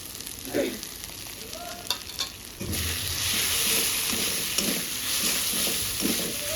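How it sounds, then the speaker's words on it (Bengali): Grated coconut fries and is stirred in a pan during the making of coconut prawn curry, a loud steady sizzle with scraping spatula strokes, after a few clatters of utensils at the start. "কষানো হয়ে গেছে এখন দেবো নারকেল কোড়া"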